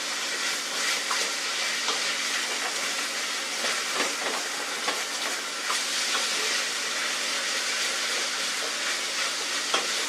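Ground hamburger frying in a pan with onions and garlic, a steady broad sizzle and hiss running continuously at an even level with faint crackles throughout.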